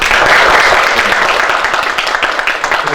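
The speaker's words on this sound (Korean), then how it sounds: "박수 한번 보내드릴까요?" A room full of people at a youth education gathering in Gapyeong claps together, a loud, dense round of applause that holds steady for a few seconds with scattered individual claps near the end.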